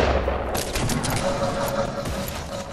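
Rapid gunfire in the video game Fortnite: a dense, continuous fusillade of shots and crackles throughout, fairly loud and close, with faint voices partly mixed in.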